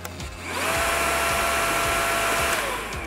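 Bosch Unlimited ProAnimal cordless handheld vacuum cleaner with a crevice tool starts up and runs steadily with a loud, even whir and a faint high whine, then begins to wind down at the end.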